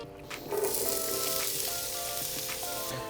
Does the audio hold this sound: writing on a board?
no